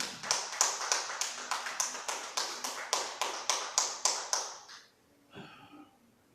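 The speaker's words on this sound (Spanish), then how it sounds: "Denle un aplauso al Señor." Clapping in a church service, a close, crisp and steady rhythmic beat of about three claps per second that stops abruptly after roughly five seconds, leaving faint room noise.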